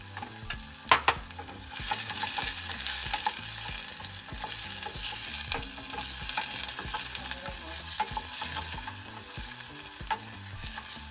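Chopped onions sauté in a hot pan for sweet and sour fish. A sharp clatter comes as they go in, then a steady, dense sizzle continues close up without talk.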